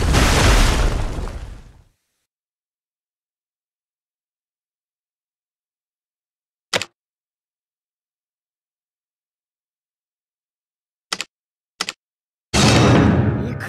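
An explosion attack in the Naruto Ninja Legacy mobile game bursts loudly at the start and fades out, followed by long silence, a few short sharp clicks, and another burst at the end.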